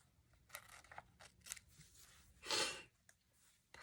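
Scissors cut paper squares with a run of soft, crisp snips close by, one longer and louder cut midway, in an otherwise quiet room.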